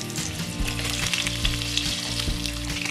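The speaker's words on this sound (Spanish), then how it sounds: "Ya que tenemos nuestro aceite bien calientito, vamos a poner aquí nuestras costillitas." Pork ribs frying in hot oil in a pan: a loud, steady, crackling sizzle up close with small popping bursts throughout, no talking.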